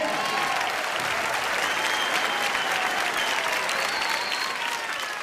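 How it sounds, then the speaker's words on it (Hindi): Thunderous crowd applause for all the teams at a celebrity cricket league event, a continuous dense wash of clapping from a large audience, loud and sustained throughout with faint voices beneath. "जोरदार तालियां सभी टीमों के लिए।"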